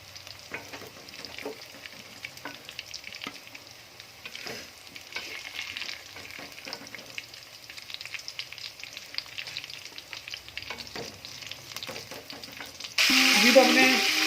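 Bay leaf and cinnamon frying in reused kofta oil in a kadhai on the stove, a soft steady sizzle with faint scrapes and a louder hiss near the end.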